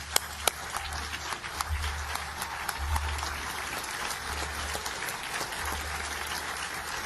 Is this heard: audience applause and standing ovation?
yes